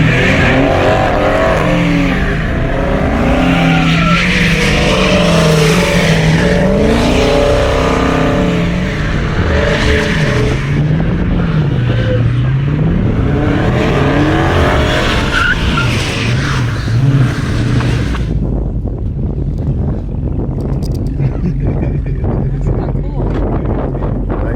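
A 2020 Dodge Charger Hellcat Widebody revs hard and does a burnout, its loud engine rising and falling in pitch over screeching tyres and wind buffeting before it drops to a quieter rumble near the end.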